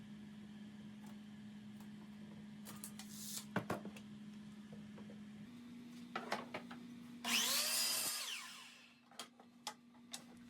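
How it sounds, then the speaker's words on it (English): A saw crosscuts wood pieces to 24 inches against a stop block while building a tree-leaf trellis. A steady motor hum runs with scattered clicks and knocks, then a loud, brief ripping cut burst, and the motor winds down before a few light taps. "I will set up a stop block to cut at 24 inches."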